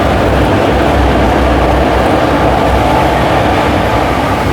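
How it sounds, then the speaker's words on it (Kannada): The Puducherry–Dadar Express, hauling blue ICF sleeper coaches, rushes past close by, filling the air with a loud, unbroken roar and rumble of wheels and carriages. "ಯಾವುದೋ ಒಂದು ಟ್ರೈನ್ ನಮ್ಮ ಎಂಟ್ರಿ ಆಯ್ತು ನೋಡ್ರಿ ಇಲ್ಲಿ"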